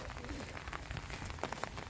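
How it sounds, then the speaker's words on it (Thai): Soft, steady patter of rain falling on a surface, faint and continuous with scattered drops, no voices. "ฝนมาอีกแล้ว"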